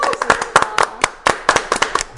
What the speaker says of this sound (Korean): 일단은 박수로 환영하겠습니다.